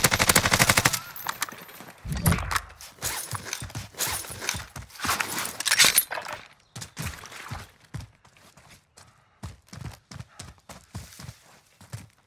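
Warzone video game gunfire: dense bursts of automatic fire at the start, then sharp single shots and rapid cracks at varying distances, with footstep-like thuds scattered through.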